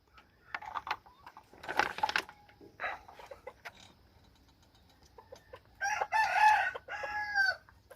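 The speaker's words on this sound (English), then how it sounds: "bantam chickens." Bantam chicken crowing in a backyard pen beside a greenhouse, several short hoarse bursts and clucks, then a longer full crow near the end, fairly close against quiet surroundings.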